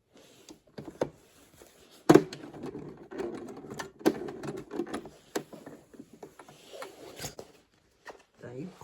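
Sewing machine top stitching fabric in short mechanical bursts of rapid ticking, with clicks and pauses between runs and a sharp knock near the start, close and moderately loud.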